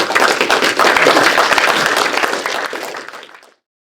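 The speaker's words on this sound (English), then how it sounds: "A round of applause for Andy." A conference audience breaks into applause, loud and close at first, then slowly thinning out before stopping abruptly.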